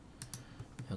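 A few keyboard keys pressed in editing software, including a Ctrl+B shortcut, heard as a handful of close, quiet clicks in about a second.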